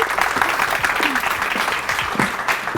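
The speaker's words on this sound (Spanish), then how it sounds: "Un fuerte aplauso a Laurín." TV show studio audience applause, a loud continuous burst of crowd clapping filling the whole moment, with faint voices underneath.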